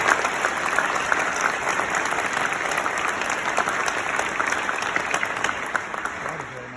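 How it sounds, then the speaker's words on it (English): Steady applause from a large crowd at a military leadership ceremony, many hands clapping densely and evenly, fading slightly toward the end. "I'd like everybody to give them a round of applause."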